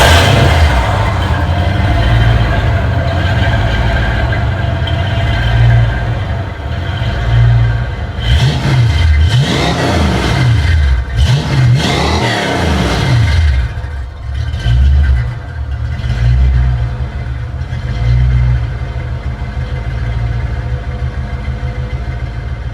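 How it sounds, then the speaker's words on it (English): A 1987 Mustang GT convertible with Flowmaster mufflers, exhaust dumps, an off-road H-pipe and BBK shorty headers idles with a loud deep burble, then revs several times in sharp rising and falling bursts before settling back to idle. "the exhaust setup and how it's Flowmasters, dumps, and an off-road H-pipe with BBK shorty headers"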